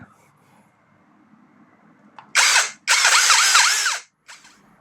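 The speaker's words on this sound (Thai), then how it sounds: "ผมจะเจาะเข้าไปบริเวณนี้" A power drill with a small bit bores a little hole, running in two loud close bursts, the second longer with a wavering whine, after a short click and a quiet hum.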